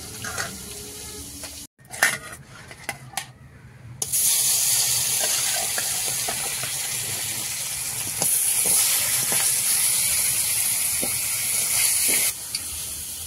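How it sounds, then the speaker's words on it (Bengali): Magur catfish frying in oil gives a loud, continuous sizzling hiss close by, broken by a few crackles and spits at the start and then holding steady. "মাগুর মাছটা ভাজছি"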